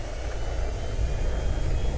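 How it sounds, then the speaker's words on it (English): A steady, loud engine drone of an airplane in flight in a flight video game, a continuous low rumble with no talk. "That's why it's better to fly by airplane."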